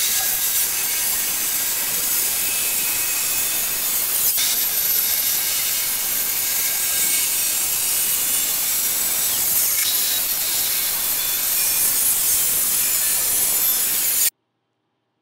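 A saw cuts wood boards for a planter box in a continuous rasping, hissing stroke that runs steadily and close for about fourteen seconds before stopping abruptly.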